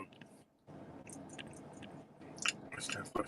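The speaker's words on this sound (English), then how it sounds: "I can hear you chewing too." A person chews food right beside a microphone, producing close, soft wet smacks and crunchy clicks in an irregular rhythm, with faint muffled voices in the background.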